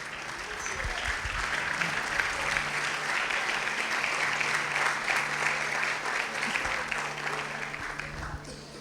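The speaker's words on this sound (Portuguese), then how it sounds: "aplaudindo a Jesus" Church congregation applauding, a full, steady roar of many hands clapping with a low hum underneath, loud and sustained before tapering off at the very end.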